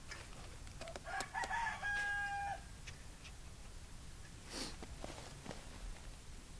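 Backyard chickens near a hanging cabbage give a few short clucking and crowing-like calls, fairly close and moderately loud over a low outdoor background.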